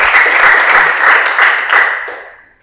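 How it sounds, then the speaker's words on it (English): An audience at a high school engineering debate applauds the participants, a loud burst of dense clapping that swells twice before fading out. "I think a round of applause for them."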